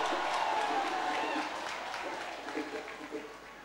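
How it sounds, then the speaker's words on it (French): Church congregation applauding for the Lord, a dense burst of clapping from a large crowd that gradually thins and fades with some scattered voices. "Acclamez pour le Seigneur."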